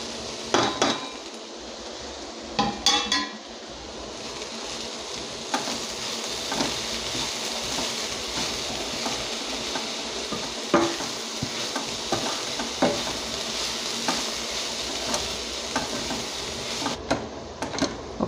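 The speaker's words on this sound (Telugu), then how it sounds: "ఇప్పుడు మనం ఇందులో పొడి మసాలా వేసి కొంచెం సేపు ఫ్రై చేసుకుందామండి" Cabbage and dried prawns fry in a pan with chili, cumin and coriander powder, giving a soft steady sizzle broken by scraping stirs and clinks of a spoon against the pot, close and moderate in level.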